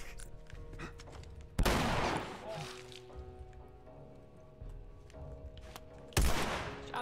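Gunfire in The Last of Us, with two sharp, loud shots several seconds apart, each ringing out briefly against a quiet, faint background.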